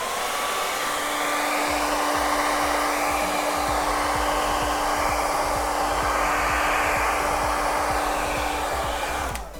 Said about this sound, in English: Get that dry, and then get the blow dryer out.